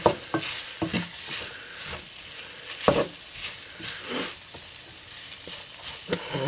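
Mushrooms and onions sautéing in a pan, a soft steady sizzle under intermittent scraping and stirring clicks from a utensil, fairly quiet and close with no voices.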